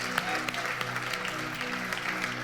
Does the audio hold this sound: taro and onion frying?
no